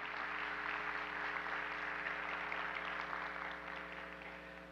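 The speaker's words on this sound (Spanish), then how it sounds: "vamos a darle un gran aplauso a Lourdes" Steady applause from a conference audience at an Ibero-American summit, a dense, even patter that keeps up without a break and fades a little toward the end, over a low electrical hum.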